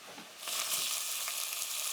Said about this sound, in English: fry the onion, and then I'll put a bit of olive oil